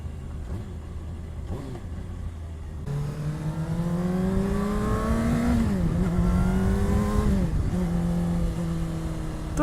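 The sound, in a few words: Honda CBR600RR motorcycle engine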